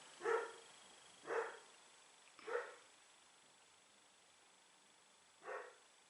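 A dog barks four times from a room away, three sharp woofs close together and a final one after a pause, with nothing else competing.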